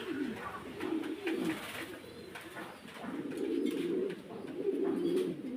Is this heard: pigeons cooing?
yes